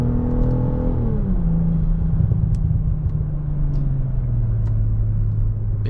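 A BMW G20 M340i rumbles steadily through a turn, its deep engine tone sliding lower as it settles, with light road noise heard from inside the car and no talking.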